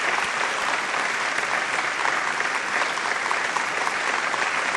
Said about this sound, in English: Let's have a round of applause for all these fantastic teams.